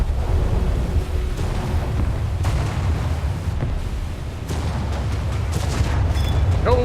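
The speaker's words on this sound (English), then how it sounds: "2 torpedoes just connected" Torpedo hits on enemy ships exploding in War Thunder naval combat, a light cruiser and a destroyer struck, heard as a loud, sustained rumbling blast with scattered secondary booms and crackling over a dense battle din.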